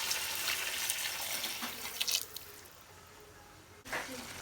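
Hot water, about a litre, poured into a pot of browned mutton that is cooking for a cabbage and meat curry, making a steady broadband splash and sizzle that fades, with a brief renewed burst near the end.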